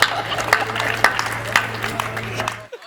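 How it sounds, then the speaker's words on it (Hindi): Two or three audience members at a Hindi poetry gathering clap briefly and unevenly. A low hum of the crowd runs under the claps, which stop abruptly near the end. "इस बात पे भीड़ में 2-3 लोगों ने कूट के ताली बजाई है"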